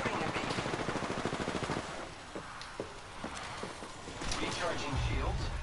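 Enemy fire in a shooter video game: rapid bursts of automatic gunfire at the start, then sparser shots, and a renewed burst near the end, with a player talking over parts of it.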